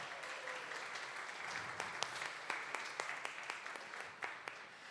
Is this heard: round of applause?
yes